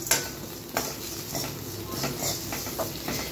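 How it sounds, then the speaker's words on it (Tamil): Green gram dal and asafoetida sautéing in a pan for a gooseberry chutney, heard as soft stirring and scraping with a few utensil clinks against the pan, close and moderately quiet, with no voices. "இதுக்கு தேவையான அளவு பெருங்காயமும் போட்டு இதில் வதக்கிக்கலாங்க நம்ம."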